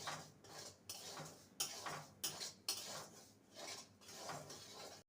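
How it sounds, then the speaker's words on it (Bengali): Semolina dry-roasting in a wok on a gas stove, stirred with a utensil that scrapes and clinks against the metal in repeated strokes, close and quiet with short pauses between. "গ্যাসে কড়াই চাপিয়ে দিয়েছি এবারে সুজিটা নেড়ে নেব"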